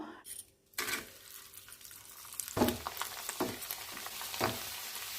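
Vadagam sun-dried crisps fry in hot oil, a soft continuous sizzle broken by a few louder clinks and stirring scrapes of a spoon against the pan, close and without talk.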